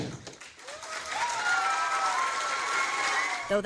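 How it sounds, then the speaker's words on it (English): A crowd at a school board meeting breaks into sustained applause with whistles and cheers, starting quieter and swelling to a steady, fairly loud roar of clapping that holds to the end. "I don't know if the kids were given demerits for cheering"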